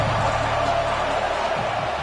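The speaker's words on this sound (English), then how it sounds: "This crowd trying to make life miserable for this offense." Stadium crowd noise from a college football video game, Duke against NC State, a steady broadband roar with a low hum underneath, fairly loud and continuous throughout.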